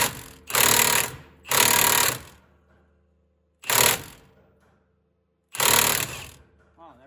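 A big Milwaukee power tool works a part loose on a John Deere 625i Gator, firing in four loud, rattling bursts separated by short silences.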